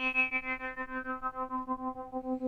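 An Arturia Prophet V software synthesizer on its Prophet VS side holds a steady buzzy, distorted tone that pulses in a regular wobble. It plays alone with no voices.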